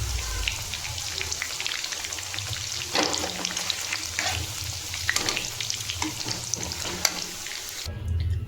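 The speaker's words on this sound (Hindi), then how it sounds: "पनीर हमारी हल्की फ्राई हो गई है।" Paneer frying in a kadhai, a steady close sizzle with crackles and occasional stirring scrapes running throughout.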